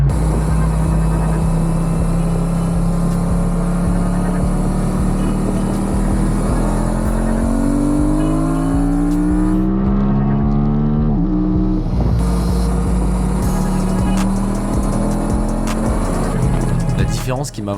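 A track motorcycle circles a race circuit, its engine droning loud and steady with rising and falling pitch as it accelerates and shifts, plus a brief dip in the roar midway, with speech heard over the engine.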